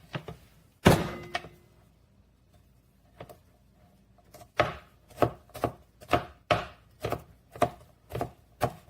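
Garlic is minced with a knife on a cutting board: one heavy knock, a few scattered taps, then a steady run of about a dozen crisp chopping thuds, close and without any talking.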